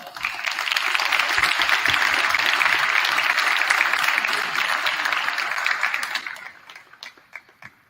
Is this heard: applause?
yes